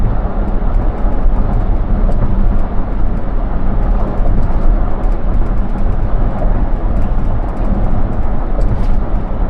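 A GWM Poer P30 Exclusive 2026 pickup truck cruising on a highway at 95 km/h, a steady loud cabin roar of engine, tyre and wind noise with no break.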